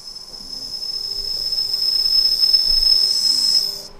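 An RC outrunner motor on a Castle ESC, a Copperhead 10, given a little throttle, gives off a thin, high-pitched steady whine for about four seconds, up close and alone before it cuts off.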